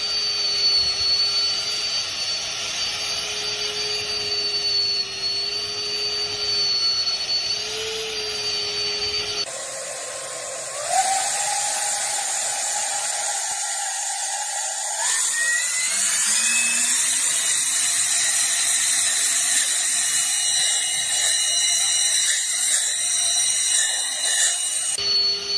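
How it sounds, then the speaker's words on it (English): A single fan thrust vectoring drone flies with a loud, continuous motor whine whose pitch holds steady, then drops and climbs in stepped sweeps as it maneuvers, close by with no talk. "It's called a single fan thrust vectoring drone."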